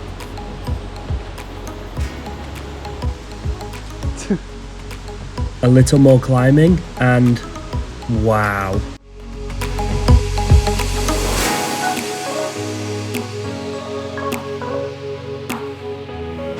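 A waterfall on Sumba Island, Indonesia, reached after a river crossing and rock climb, gives a steady rushing roar that swells and fills the second half, while people talk over it and footsteps tap on rock earlier.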